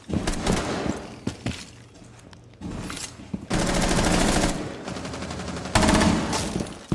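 Rapid automatic gunfire bursts in a Rainbow Six Siege match, loud and close, with short pauses between sustained volleys and several sharp single shots.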